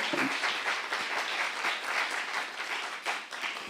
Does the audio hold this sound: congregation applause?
yes